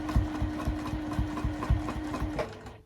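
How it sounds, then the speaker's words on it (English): A sewing machine stitching short back stitches on a Christmas quilt, its needle thumping in a quick, even rhythm with a steady motor hum, close and moderately quiet, stopping near the end. "So I'm just going to do those back stitches here."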